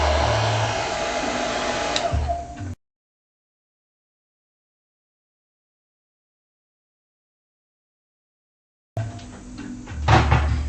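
A hair dryer blasts steadily while drying wet watercolor paint on a sunset palm tree painting, stopping abruptly for several seconds of silence before starting again, with a clunk as it switches.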